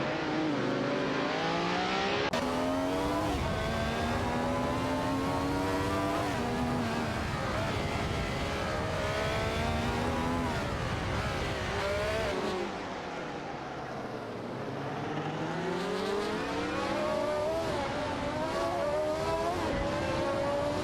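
Ferrari 312T and Fittipaldi FD03 race cars scream around a track in a racing video game, loud sustained engine whine rising and falling through gear changes as cars pass, with continuous layered revving throughout.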